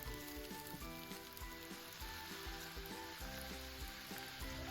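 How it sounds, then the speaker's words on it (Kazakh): Bell pepper and meat sizzle steadily in a hot pan, a dense continuous frying hiss with a faint background music bed and no voices. "Аса қатты езілгенше емес, сәл жұмсарғанша қуырамыз."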